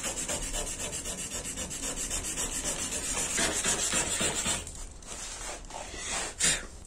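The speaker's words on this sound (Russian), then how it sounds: "Зашкурим зону повреждения." Sandpaper worked by hand over a dented car hood on a Renault Sandero 2 Stepway, a close, steady rhythmic rasping of back-and-forth strokes that eases off near the end with a couple of lighter scrapes.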